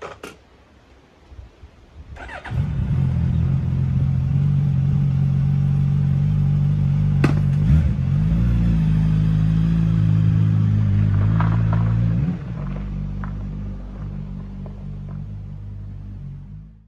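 Suzuki GSX-S1000GT motorcycle with Rizoma handlebars on a test ride: engine starts and settles into a loud steady rumble, shifts pitch midway, then drops to a lower drone.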